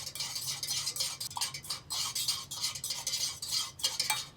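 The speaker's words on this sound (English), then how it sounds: "I'm going to give it a good stir." A spoon scrapes and clinks around a small container as a homemade lip balm mixture with cinnamon is stirred, repeated swishing strokes and light metallic taps, close and quiet with no talk.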